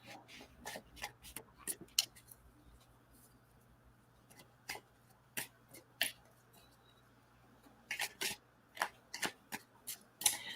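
Tarot cards are shuffled and handled close up in a quiet room, with bursts of crisp riffling and slapping in irregular clusters separated by short pauses, with no talking.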